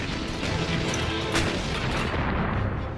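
Artillery and gunfire from fighting between Armenian and Azerbaijani forces, a dense continuous rumble of booms and crackling shots with one sharper blast near the middle, no voices.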